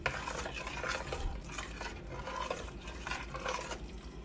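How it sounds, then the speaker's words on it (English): A spoon stirs vegetable broth into a pot of chicken soup, making soft continuous scraping and swishing with light clinks against the pot, close and fairly quiet. "Just stir until it's well incorporated"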